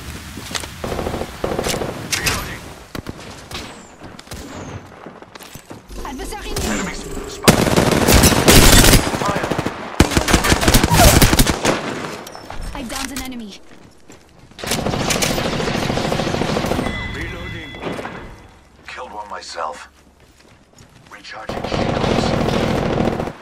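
Apex Legends game combat carries bursts of automatic gunfire, loud rapid volleys separated by quieter gaps. An in-game voice line sits among the shots.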